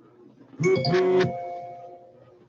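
A bright ding-dong chime, like a doorbell, rings once at moderate volume and its tone lingers as it fades, heard alone in a quiet room.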